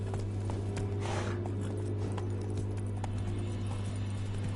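Steady clip-clop of Roach the horse's hooves walking in The Witcher 3, a close, even rhythm over a constant low hum of background music and ambience, with no one talking.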